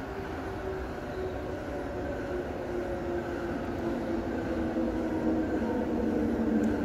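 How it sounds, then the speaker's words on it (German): An S-Bahn commuter train on Berlin's S25 line in Train Simulator Classic rumbles past, a loud steady rolling roar with a faint whine on top that swells slightly toward the end, no voices. "Noch eine S-Bahn."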